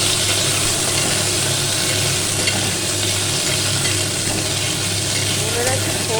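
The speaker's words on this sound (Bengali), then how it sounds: "এবার একটু নেড়ে দেবো, আলুটা আগে ভেজে নেবো।" Potatoes fry with banana stem in a pan with bay leaves, a steady, dense sizzle with scraping stirring sounds running continuously and close throughout.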